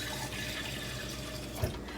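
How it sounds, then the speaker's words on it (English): Water pours into a pot of beans for homemade refried beans, a steady close rushing splash with no break, ending in a small plop. "And then we're going to add in 5 cups of water."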